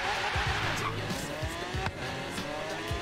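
Bugatti and Lamborghini Aventador supercars drag racing in a video game, engines revving up through repeated gear shifts with rising and dropping pitches, plus tire squeal, loud and close with no voices.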